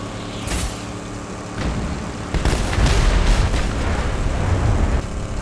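A heavy explosion of a turret in Mad Max bursts out with a deep boom, followed by rumbling debris and crackling noise.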